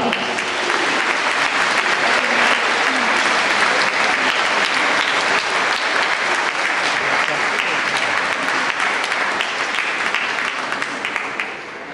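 Sustained applause from a seated audience at a literary interview event, honouring the interpreter; dense, loud and steady for the full stretch, tapering slightly at the very end, with no talk over it.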